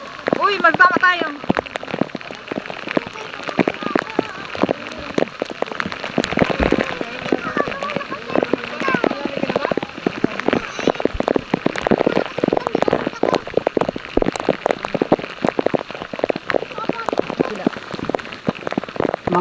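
Heavy rain drums and patters on the water and surfaces around a kayak at the Big Lagoon, a dense close downpour throughout with voices talking over it.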